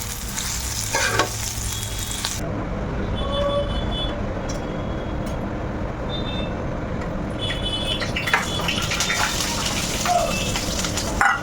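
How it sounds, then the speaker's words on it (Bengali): Potato pieces and onions fry together in a pan with a steady, close sizzle and crackle, broken by occasional stirring scrapes and clinks, with no talking. "দুই টুকরো আলু তো আর আলাদা ভেজে দিলাম না পেঁয়াজের মধ্যেই দিয়ে দিলাম ভাজা হয়ে যাবে"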